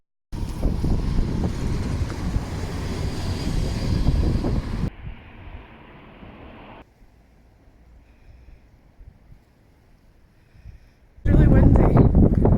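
Strong wind buffeting an outdoor microphone, a loud continuous roar that drops to quieter gusts midway, then surges back hard at the end.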